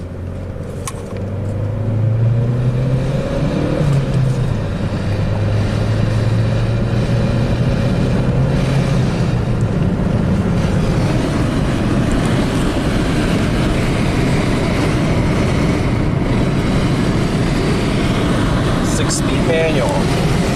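Interior road noise from a manual Chevy Cruze being driven after a rough-running, rich-fuel fault was fixed, a steady loud engine drone and tire rumble with a rising then falling engine pitch early on, while a person talks over it.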